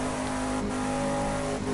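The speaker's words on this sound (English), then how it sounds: "All I can hear is this poor thing redlining." A V8 muscle car engine in The Crew 2 racing game holds near redline, a loud, steady, buzzing drone with strong low harmonics and a slight dip in pitch near the end.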